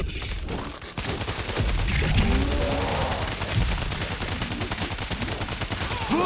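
Dense gunfire from the zombie shooter game World War Z in a Tokyo level, a continuous rattling fusillade of rapid automatic shots that runs loud and steady through the whole stretch.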